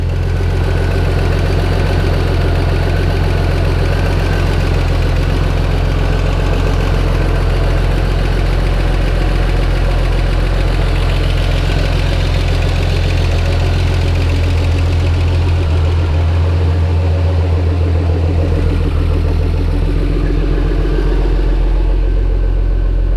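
A Jeep Cherokee XJ engine, started after sitting unused for 12 years, idles loud and close with a steady low rumble and a faintly knocking, uneven texture, continuing throughout.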